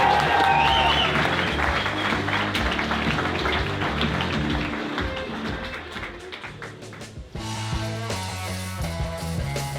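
A comedy show audience gives a loud burst of stormy clapping to welcome a comedian on stage, dense at first and then thinning to scattered claps before swelling again near the end.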